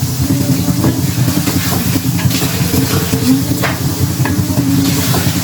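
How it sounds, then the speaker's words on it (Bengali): Steady, continuous sizzling of onions frying in a pan with occasional stirring scrapes, close and fairly loud throughout. "তাহলে পেঁয়াজটাকে একটু ভালো করে ভাজা করে নিই"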